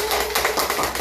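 An audience of business owners claps at a PM International business seminar, a brief burst of dense, close applause.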